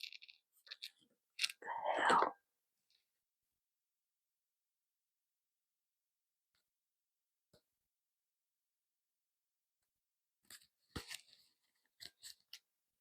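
Tarot cards being shuffled by hand: brief papery riffles and taps near the start and again toward the end, quiet and close, separated by a long silent stretch.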